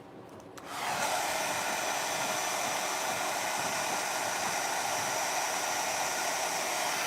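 An electric blower, likely a hair dryer, drying a first coat of paint on a craft project starts after a brief quiet moment and then runs as a steady, loud, even rush of air to the end.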